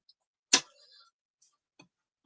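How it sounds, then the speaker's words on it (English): A single short hiss of a hand spray bottle misting water onto a coffee filter, sharp at onset and fading quickly, followed by a few faint light taps in a quiet room. "I'll do one more spray for good luck."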